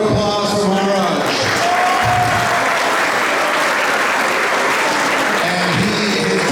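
Sustained crowd applause fills a hall at a Janmashtami festival celebration in Maple, Ontario, a dense steady wash of many hands, loud and close throughout, with voices talking faintly beneath it.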